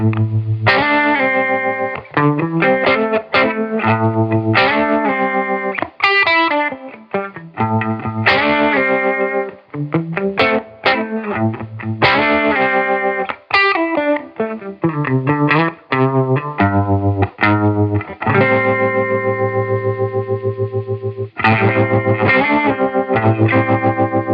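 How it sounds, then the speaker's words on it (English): An electric guitar plays through an Asheville Music Tools APH-12 single-stage analog phaser, its tone wobbling and pulsing in a tremolo-like way across a run of sustained notes and riffs. "it's going to give you some tremolo-like sounds"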